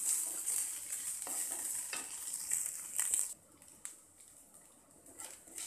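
Onions with ginger-garlic paste fry over a medium flame, a steady close hiss with repeated scraping stirs through the first half, then the sizzle softens and quiets after a few seconds.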